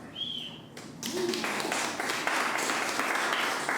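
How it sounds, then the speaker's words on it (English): A comedy club audience bursts into applause at a stand-up set, beginning after a brief quiet moment and swelling into dense, sustained clapping from a crowd, moderately loud and continuing to the end. "Stop clapping"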